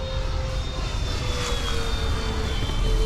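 An FMS P-47 Razorback 1500mm radio-controlled fighter plane flies past, its electric motor giving a steady whining drone with a faint rising tone midway, moderately loud and alone in the wind.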